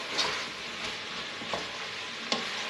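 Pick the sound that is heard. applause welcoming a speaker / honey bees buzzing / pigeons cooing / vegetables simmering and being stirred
vegetables simmering and being stirred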